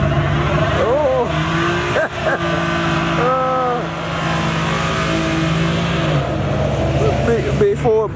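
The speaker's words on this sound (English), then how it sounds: "Big Ford burnt the little tire." A big Ford truck does a burnout, its engine revving in rising surges while the tires squeal, with people talking and exclaiming over the steady roar.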